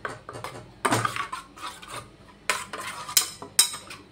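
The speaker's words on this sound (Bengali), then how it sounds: "এবার এই মশলাটা ভালো করে একটা চামচ দিয়ে একসাথে মেখে নিচ্ছি" A spoon stirs ground spice paste loosened with water in a pot or bowl for a prawn curry, giving close, irregular scraping and clinking strokes in bursts with short pauses, no talking.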